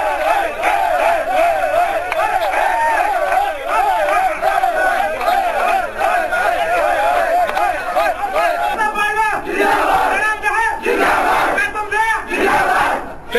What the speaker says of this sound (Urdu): فتح کے بعد عوام اور سابق کھلاڑیوں نے پاکستان زندہ باد کے نعرے لگائے